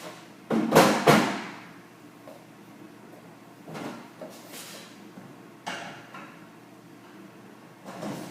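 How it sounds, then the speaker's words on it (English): A drawer is pushed back into a storage cube, making a few soft sliding thuds and bumps spread over several seconds, close and fairly quiet, with no talk. "put your drawer back in."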